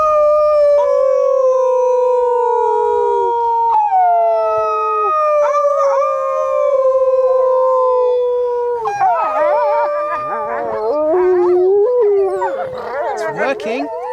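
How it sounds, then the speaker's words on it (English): A wolf pack howls: long, wavering howls, mostly a single voice at first, then several overlapping howls rise into a loud, dense chorus, close and strong. "The way they bring themselves together, particularly before a hunt, is using a howl."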